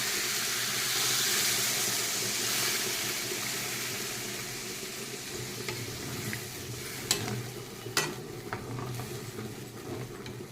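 Sugar sizzles in a hot pan as water is added, with steady frying hiss and occasional sharp spoon-against-pan scrapes from stirring, close and continuous without speech.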